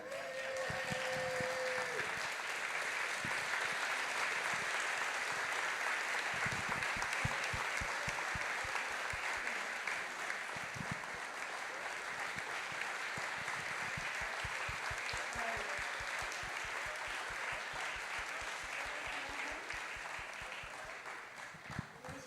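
Sustained, loud applause from an audience on its feet at an Indonesian book launch, a dense wash of clapping that holds steady for over twenty seconds with a brief voice at the start and no speech after.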